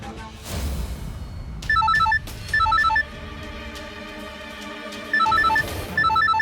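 A telephone hidden in a car rings in trilling electronic bursts, two pairs of rings separated by a pause, loud over a steady musical score.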